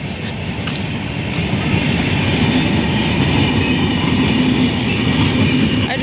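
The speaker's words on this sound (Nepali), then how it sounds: "यहाँ चाहिँ देख्न सक्नुहुन्छ ट्रेन गइरहेको छ।" A train passes close by a small home garden, giving a loud, steady rumble with faint rhythmic rail clatter that lasts the whole stretch, with no voices.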